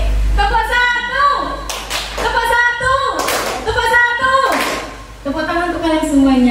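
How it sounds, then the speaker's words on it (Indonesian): A group audience claps in a rhythmic pattern during an interactive session, mixed with loud chanting and calling voices throughout. "Tepuk tangan untuk kalian semuanya"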